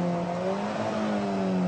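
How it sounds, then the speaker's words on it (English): A coarse car engine drones steadily from inside the cabin of a car with no power steering, a low, even hum with a rough edge and no talking over it. "The engine's quite coarse. It's not a nice noise like the six-cylinder Porsche."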